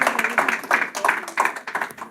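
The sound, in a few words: audience applause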